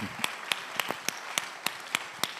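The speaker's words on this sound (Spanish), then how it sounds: "aplausos Max, aplausos." Sparse, evenly spaced handclaps ring out in a slow rhythm at a Guatemalan public dialogue event, thin and somewhat distant rather than a full crowd ovation.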